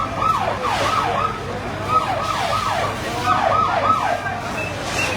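A police siren wails in repeated rising and falling sweeps during a fire on Medina St. in Masbate City, steady and moderately loud over street background noise and traffic.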